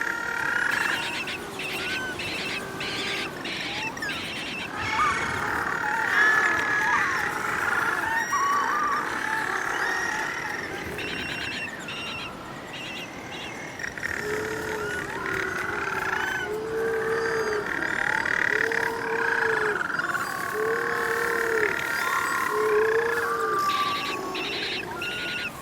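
Little penguins calling at night in a Tasmanian coastal colony in early spring, a dense chorus of overlapping braying and croaking calls from many birds, some near and some farther off, running steadily throughout.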